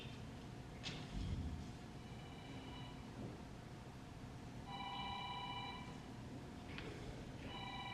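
A phone rings during a funeral service, sounding as repeated bursts of an electronic ring tone that stand out over a quiet room murmur.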